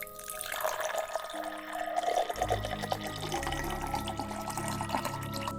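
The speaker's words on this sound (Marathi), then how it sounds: "पण मध्यरात्री 12 वाजता पाण्याचा आवाज येऊ लागलो" Bathroom taps left running at midnight, a steady rush of water pouring into a basin, continuous and fairly close, with a deeper, fuller flow setting in partway through.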